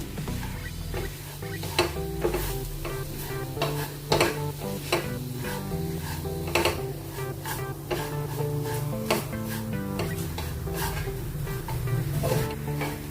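Okra stirred in a pan with turmeric and red chili powder produces repeated scraping and clacking of a spatula against the pan in an irregular rhythm over a low background, with a faint sizzle beneath.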